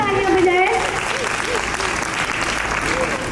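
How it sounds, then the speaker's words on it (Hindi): Guests at a wedding reception in Narowal, Pakistan applaud in a sustained burst of clapping, loud and dense, with a voice talking over the start. "तालियां बजाएं।"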